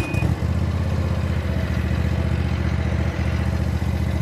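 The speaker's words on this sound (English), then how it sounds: "It's a 22-horsepower Kawasaki, runs very smooth." A 22-horsepower carbureted Kawasaki engine on a Dixie Chopper Blackhawk 48-inch zero-turn mower runs smoothly, a steady loud low-pitched drone with rhythmic pulsing that holds even throughout, nearby and uninterrupted.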